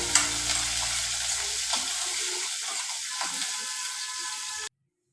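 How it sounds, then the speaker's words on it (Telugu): Onions frying with mustard seeds, cumin and curry leaves in a pan for a bhindi recipe make a close, continuous crackling sizzle with occasional scrapes and pops, fading before ending abruptly. "వేగాలి ఉల్లిగడ్డలు."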